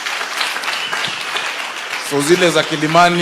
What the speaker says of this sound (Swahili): Tumpigieni makofi jameni